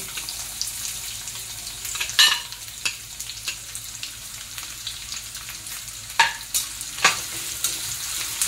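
Onion and finely chopped curry leaves fry in a pan with a steady close sizzle, broken by several sharp scrapes and clanks of a spoon stirring against the metal, no talking.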